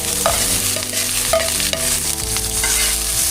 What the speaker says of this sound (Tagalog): Igisa na po natin yung ating bawang, sibuyas, tsaka luya.